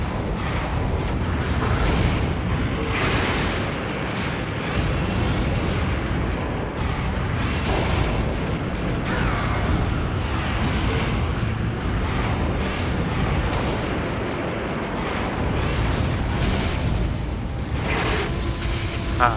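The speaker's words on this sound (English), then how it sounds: "Throwing out those Kiryu missiles." Kiryu missiles firing and exploding in the Godzilla: Save the Earth game, a dense, continuous wall of loud booms and crackling blasts that barely lets up, with no talk over it.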